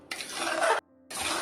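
Carrot halwa cooked over a medium flame, a spoon scraping and stirring through it in a pan, two close rasping bursts separated by a short pause.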